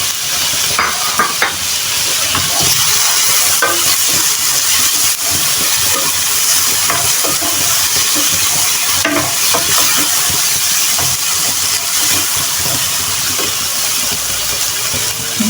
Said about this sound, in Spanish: ahora que tengo bien doradita la cebolla, le vamos a poner los tomatitos cherry